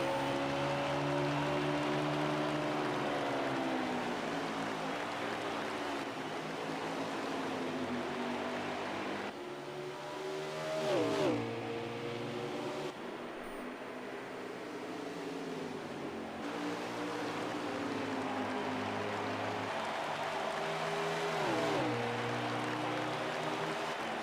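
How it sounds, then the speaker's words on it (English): Drew Jua's No. 19 Toyota stock car drones along pit road with a steady engine note that rises and falls through gear changes, moderately distant under a constant background roar. "Looks like Drew Jua has brought his 19 Toyota down pit road."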